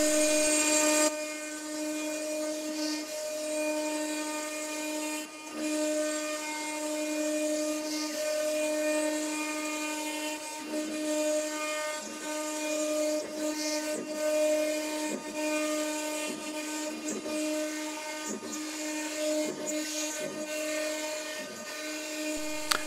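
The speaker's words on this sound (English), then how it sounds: "Once that final cutting operation had been completed, the spindle returned to the home position." A CNC router spindle running at 18,000 RPM cuts a guitar fretboard blank with a steady, loud high-pitched whine that holds across the whole stretch, broken by brief dips and ticks as the cutter moves.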